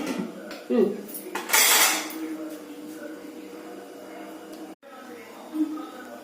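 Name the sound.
lid put on pot of fish curry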